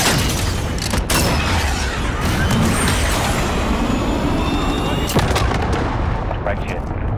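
Called-in artillery strike in Call of Duty Modern Warfare multiplayer, with loud continuous rumbling booms and gunfire, a few sharp blasts and whistling streaks overhead, radio-style voices faintly in the mix.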